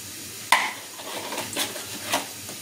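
A metal spatula scrapes and stirs through food in a cooking pan, with one sharp clink against the pan followed by a few softer scraping strokes, close and clear with no talking.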